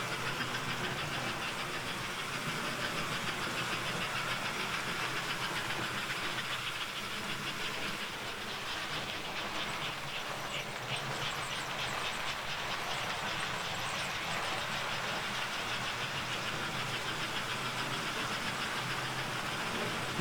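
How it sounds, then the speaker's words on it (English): A model train caboose rolls along a home layout some distance away, a faint, steady rumble and clatter that continues evenly throughout without any talk. "The caboose going off in the distance is one I recently got"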